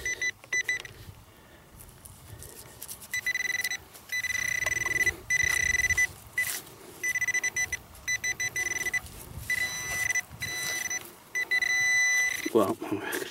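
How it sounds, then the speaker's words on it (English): A metal detecting pinpointer gives repeated electronic beeps that pulse on and off in bursts over a field dig, with someone talking intermittently underneath. "we're going to go to pinpointer now, because that'll be much easier to deal with than with the detector"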